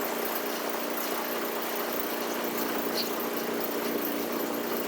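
A Stihl 7.1 HP engine on a stubble mower running steadily, giving an even, buzzing mechanical drone at constant speed and moderate distance with no change in pitch or loudness.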